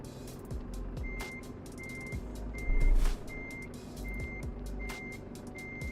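A truck reversing to park in American Truck Simulator, with a steady evenly spaced reverse beeper over a low diesel engine idle and a brief louder rumble midway.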